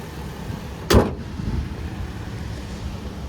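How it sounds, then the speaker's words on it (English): A 2008 Toyota Tacoma TRD Off-Road with a 4-liter V6 and high mileage idles steadily with a low rumbling hum, heard near with a brief bump of handling noise early on. "there it is, covered up mostly, that 4-liter V6. What's funny is it still sounds"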